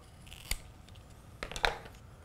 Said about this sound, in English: Quick cut with the shears.